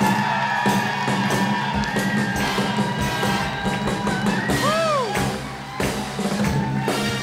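A burlesque cabaret audience at a curtain call, loud whoops, cheers and shouts rising over a dense crowd roar, with bursts of yelling and a few whistles near the end.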